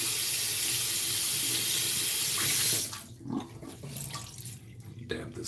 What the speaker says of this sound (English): I'm gonna get some cold water.